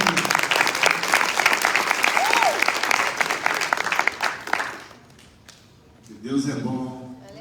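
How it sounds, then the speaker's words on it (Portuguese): A church congregation claps after a worship song. The clapping is dense and sustained, with a brief whistle partway through, then fades out before a voice speaks at the end. "Vamos dar uma salva de palmas por esse louvor lindo."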